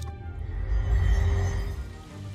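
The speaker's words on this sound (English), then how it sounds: "It's raining now." Rain falling in the video game Shadowgate on PC, a steady, dense wash of noise that holds throughout, swelling slightly in the middle, with no talking over it.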